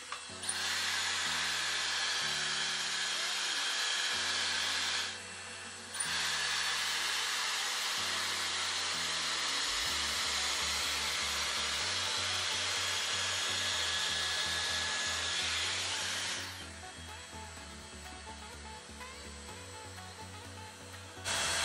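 A Dyson Airstrait hair dryer straightener runs as a steady, loud airflow whir, briefly cutting out and restarting, with a lower motor hum and clicks beneath and a drop in level near the end.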